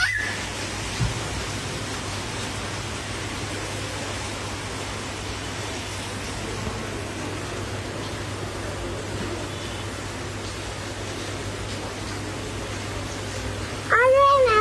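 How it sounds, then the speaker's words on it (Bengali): Heavy rain pours outside, a constant broadband hiss that holds steady throughout, with a brief sharp sound near the end. "দেখতেই পারছেন কি সুন্দর বৃষ্টি হচ্ছে"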